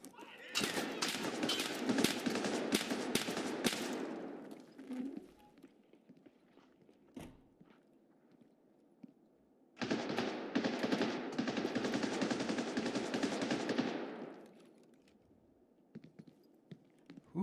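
Gunfire in Escape From Tarkov, two long bursts of rapid automatic shots several seconds apart, loud and close, with a single isolated shot and faint shuffling in the quieter gap between them.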